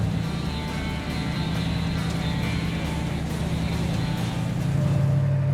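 An old-school Southern California hot rod engine runs at a steady idle, a low continuous rumble with a throbbing exhaust tone throughout, close and fairly loud, with no talk.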